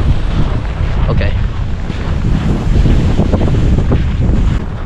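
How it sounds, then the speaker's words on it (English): Strong wind gusts over an open lake, buffeting the microphone in a loud continuous roar with faint water lapping beneath. "Oh, it's getting windy."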